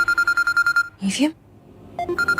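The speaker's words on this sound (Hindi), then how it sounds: "वो मुझे फोन क्यों कर रहे हैं?" A phone rings in a Hindi TV drama scene with a rapid electronic ringtone of repeated short beeps. A brief voice cuts in and the ringing pauses, then the beeping pattern resumes.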